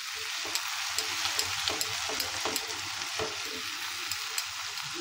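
Tomato puree fries with salt in a pan, giving a steady, close sizzle with frequent small crackles and pops and occasional clinks of stirring, with no talking.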